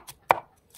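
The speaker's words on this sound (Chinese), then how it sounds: "再拍几个蒜" A cleaver smashes garlic cloves on a board with one sharp, loud thwack. Two fainter knocks from handling come before and after it, close up.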